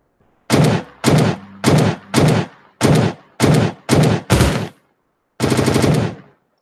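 Bursts of automatic gunfire in an alpha build of a video game, eight short loud volleys in fairly regular succession, then a pause and one longer burst, sharp and close with silence between.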